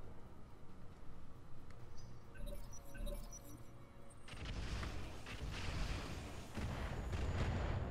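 MML missile turrets fire in the Roguetech video game, a quiet jumble of clinks and beeps giving way to a sustained volley of rumbling launches and booms that grows louder, with no talking.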